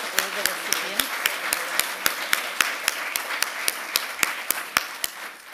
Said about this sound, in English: Join with me, colleagues, in giving Gabriella and all of our Learning and Teaching Award winners another round of applause.